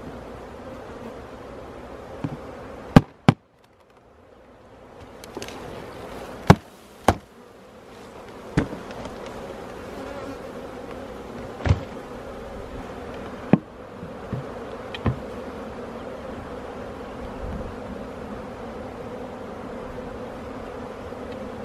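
Bees buzz steadily around a hive during the transfer of nucleus colonies in June, a continuous close drone broken by several sharp knocks and clatters of handling the hive boxes.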